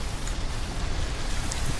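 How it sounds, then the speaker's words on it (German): Steady rain in Minecraft, a dense even hiss of falling drops with no voices or other sounds over it. "wieder Regen, ich mag den Regen nicht"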